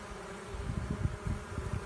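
A honeybee swarm fans and buzzes under a backyard trampoline, a soft, close, continuous hum with fluttering pulses of wing noise and no voices.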